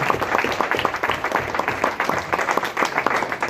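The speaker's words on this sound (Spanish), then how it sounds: "un aplauso al Cordero de Dios. Fuerte, fuerte." Church congregation clapping in worship, a dense, steady wash of applause filling the room without pause, loud and close, with some voices mixed in.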